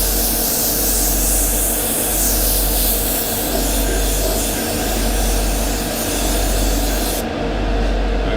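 An airbrush sprays thinned paint onto a Revell 1/32 He111 model kit inside a spray booth, a continuous loud hiss over a steady fan-like drone, cutting slightly at the end.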